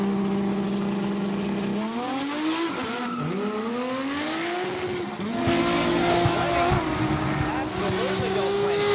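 A car with a manual gearbox launches at a Quick Street drag race. Tires squeal and the engine revs up through rising gear pulls, then shifts and climbs again, heard from a distance under a commentator's voice.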